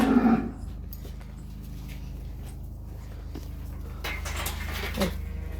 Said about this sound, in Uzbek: Yoshiga to'lmagan buzoqlar.